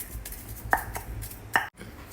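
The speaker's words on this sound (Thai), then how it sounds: "หลังจากนั้นก็ใส่กะปิค่ะ ใส่กะปิลงไปนะคะ แล้วก็ตำ ตำให้เข้ากับกระเทียมค่ะ" Shrimp paste being pounded with garlic in a mortar for Thai nam prik kapi, giving a few distinct thuds about a second apart over a low background hum.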